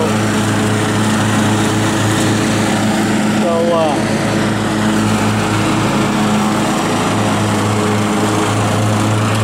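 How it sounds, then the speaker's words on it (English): Cub Cadet XT1 Enduro riding mower cutting calf-deep, thin grass, its engine droning loud and steady throughout; a voice is heard briefly over the engine. "It's no test for the mower at all. It's just going right through."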